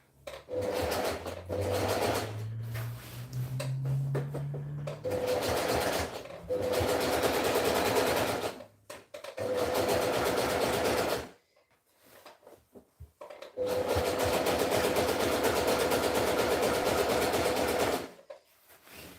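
Sewing machine running zigzag overlock stitches along fabric edges, in several long continuous bursts separated by short pauses, close and steady with a humming motor tone.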